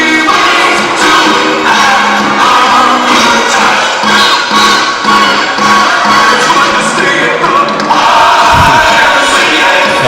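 A volleyball tournament crowd cheers and shouts loudly and steadily through a semifinal match while YMCA plays over the arena speakers, a dense wash of voices with no breaks.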